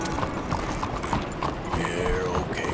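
Horse hooves clip-clopping at a walking pace in the open-world western game Red Dead Redemption 2, a steady rhythmic clopping over faint mechanical tack creaks, with no talk.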